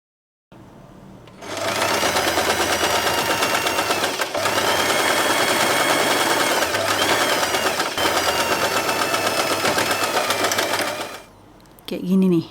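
A sewing machine stitches satin ribbon for a hair bow, running at a steady fast rhythmic whir for about ten seconds, loud and close, after a short start and followed by a brief pause and handling noise.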